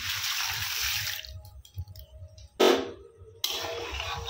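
Water pouring into a kadai (wok) to start a sugar syrup for a Lakshmi Puja sweet, a steady splashing stream that stops after about a second, followed by faint clinks and a short second pour.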